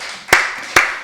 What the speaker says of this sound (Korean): 우리 박수로 하나님께 드리겠습니다.